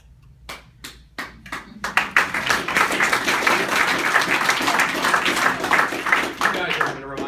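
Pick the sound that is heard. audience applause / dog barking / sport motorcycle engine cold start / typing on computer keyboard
audience applause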